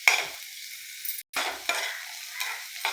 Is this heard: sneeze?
no